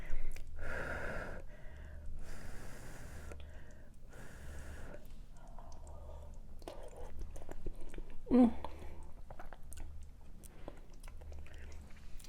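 Someone eating cheesy beefy taco potato stew up close, with quiet chewing and mouth sounds, breaths and a gasp, in a near-silent room.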